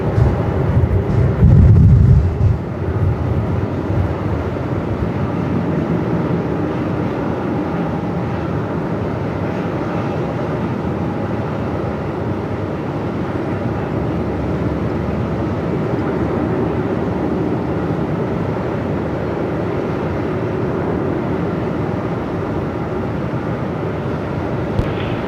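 Strong gusting wind roars across Melbourne Airport while a Qantas Boeing 737-800 arrives, a steady broadband rumble filling the whole stretch with a louder low thump near the start.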